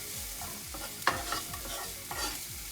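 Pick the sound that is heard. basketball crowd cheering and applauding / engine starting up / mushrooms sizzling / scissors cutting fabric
mushrooms sizzling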